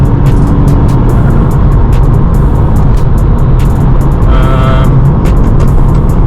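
Inside a 350 bhp Volkswagen Scirocco R on a fast night drive, a loud steady engine and road roar fills the cabin with heavy wind noise while another car closes in quickly from behind.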